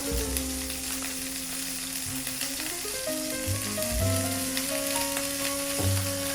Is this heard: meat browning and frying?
yes